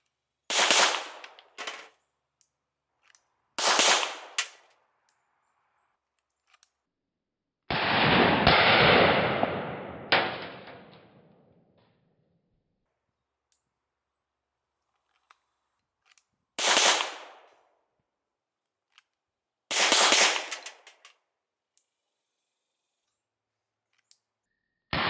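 Compact pistol shots fired in short bursts, a few rapid loud cracks in each group, with one longer noisy rumbling blast in between; close and loud, with silence between groups.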